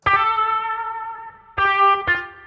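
An electric guitar from the Scoring Guitars 2 library, played through a dry patch with Rematrix reverb applied, strikes three bright, sustained chords, the first ringing long and the next two arriving close together, loud and up front.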